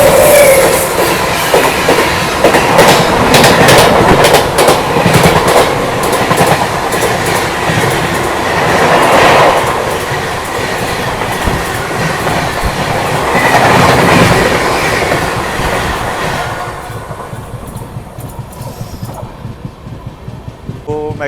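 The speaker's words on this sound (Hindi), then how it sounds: "सामने ट्रेन आ रही है" A train rolls past close by near Kota junction in India, with steady loud rumble and clickety-clack of wheels over rail joints for most of the stretch, fading toward the end.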